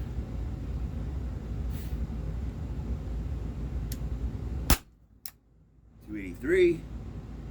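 A Umarex Walther PPS M2 airsoft pistol fires one sharp, loud crack close by, followed by a quieter snap, over a steady background hiss; a voice is heard shortly after.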